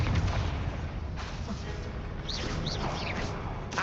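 A Confringo fire-blast spell in Hogwarts Legacy: loud booming bursts over rumbling battle noise, with short whooshing, chirp-like streaks near the end.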